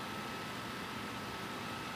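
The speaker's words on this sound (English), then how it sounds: "What you hear right now is the fan on my MacBook Pro." Steady, faint broadband whir of a MacBook Pro cooling fan, a constant airy hiss with no change in pitch, alone and close.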